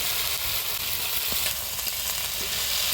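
Chopped Malabar spinach hits a frying pan of oil and spices, sending up a steady, close, continuous sizzle with light stirring and no talk.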